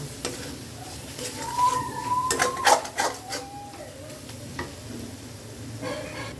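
Spice paste with turmeric and salt stirred in a pan for a Bengali jackfruit and prawn dish, a spoon scraping and clinking in bursts over a low sizzle, close and moderately loud.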